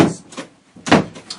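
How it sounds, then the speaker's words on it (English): A door is pushed shut indoors in two close bursts, a brief scrape and knock followed by a louder thud, then a faint rattle as it settles. "I'm closing the door so Suki doesn't hear this."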